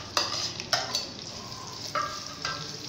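Two medium onions frying in a pan with whole spices such as black peppercorns and cloves, with a steady low sizzle and a few sharp scraping stirs of a spoon against the pan, alone without talk.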